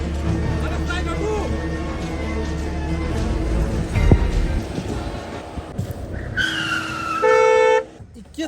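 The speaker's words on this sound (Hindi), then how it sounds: "एते हॉर्न बजा रहल छियै एकरा सुनाई नहीं दै छै" A car horn blares in traffic, sounding a few times and ending in one long sustained honk, amid engine noise, a screech and people talking.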